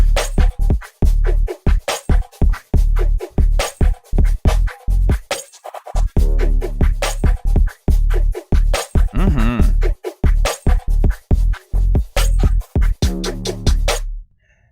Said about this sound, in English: nice little minimal beat I'm working on here